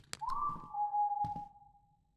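A character whistles in the video game Lazaret, a single clear sustained note that slides briefly upward then holds steady before fading out, with soft thuds and clatter at the start and midway.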